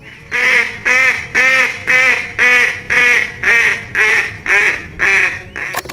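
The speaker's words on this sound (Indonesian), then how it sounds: "Bebek angsa." A toy duck or goose gives nine evenly spaced, loud nasal quacks, a repeating honk pattern with short gaps, close and with no voices.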